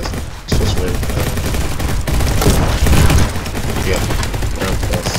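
Rapid sustained MK14 rifle gunfire in the Roblox Egg Hunt 2020 game, dense overlapping shots firing continuously at close range for several seconds, loud and steady.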